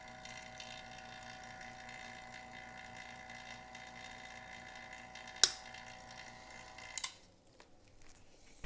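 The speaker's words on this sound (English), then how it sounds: "So you can hear the pump change tone. That means that it's pulled a pretty good vacuum on it." A vacuum pump drawing down a tractor tire for loading steadily hums with a layered mechanical drone, its tone shifting near the end, punctuated by a sharp click and a couple of brief knocks.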